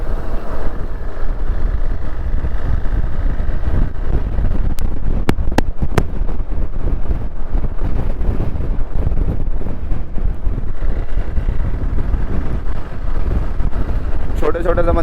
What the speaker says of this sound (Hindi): बहुत ठंडी हवा चल रही है, बिल्कुल सामने पहाड़ों से आ रही है।